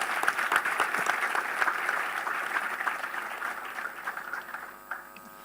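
An audience at a foundation day celebration claps in sustained, dense applause that holds strong for several seconds before thinning and fading toward the end; no talking.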